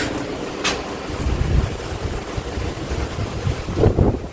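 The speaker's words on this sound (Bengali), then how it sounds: "হাওয়া হাওয়া, এই পেছন দিকের বারান্দার ভিউটা দেখো।" Wind blowing across a back veranda with a hill view in Daringbadi, a continuous rough whooshing buffeting that gusts and swells, heard close and alone without any talking.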